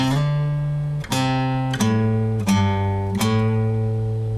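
Low, heavy guitar notes from the Pink Panther theme ring out one after another, with quick slides between them, five strums in a slow, steady pattern.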